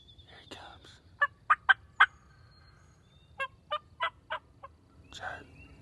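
Wild turkeys gobble in a field in the morning, a burst of four sharp calls followed by another series of four, fairly distant and clear over faint low background noise.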